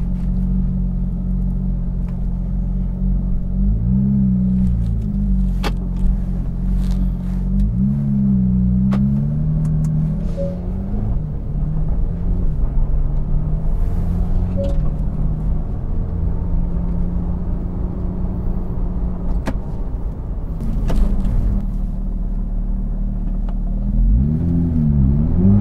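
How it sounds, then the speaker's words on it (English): A Porsche 911 GT3 of the 991.1 generation idles with its sport exhaust (PSE) switched on, giving a deep, loud, steady rumble broken by a few short throttle blips. "right now we have the PSE button turned on, so we're getting a little bit louder sound at idle and up to 1500"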